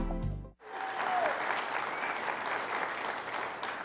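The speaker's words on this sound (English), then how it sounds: "Thank you for that applause." Studio audience breaking into sustained applause after a short musical sting, dense clapping that holds steady at a moderate level for several seconds.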